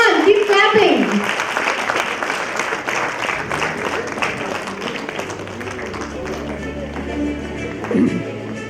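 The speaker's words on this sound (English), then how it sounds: "Come on, keep clapping." An audience claps at an International Women's Day celebration, with sustained rhythmic applause under a voice and background music continuing throughout.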